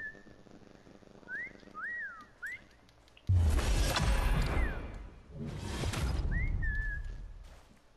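Fortnite hide-and-seek match with in-game whistling, several short rising and falling whistle phrases at moderate volume, broken up by a loud whooshing rush and other game noise.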